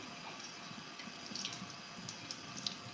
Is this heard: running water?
yes